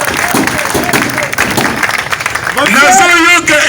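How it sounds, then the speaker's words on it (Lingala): A crowd at a political gathering applauds and cheers the head of state, loud clapping swelling near the end beneath an amplified voice calling out over the noise. "acclamez pour chef de l'État"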